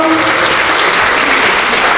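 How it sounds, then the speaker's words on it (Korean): Loud, dense audience applause fills the hall at a martial arts fight event, steady and continuous throughout with no speech over it. "큰 박수 부탁드리겠습니다"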